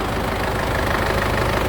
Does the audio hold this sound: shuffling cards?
no